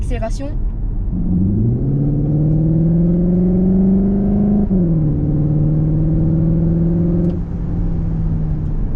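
A Cupra Formentor accelerates hard with a smooth rising engine drone that steps up, dips at a gear change and climbs again, heard from inside the car over constant road rumble.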